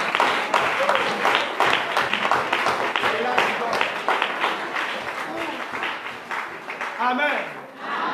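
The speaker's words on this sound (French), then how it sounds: "On acclame Dieu pour ce conseil." A church congregation claps and cheers loudly during a French-language worship service, the applause dense and sustained, with voices shouting and calling out over it before it tapers off.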